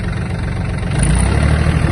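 Close, loud, steady diesel engine rumble from a Yanmar F-255 Japanese mini tractor with four-wheel drive, running in third gear with a low throbbing drone that rises slightly partway through, no talk.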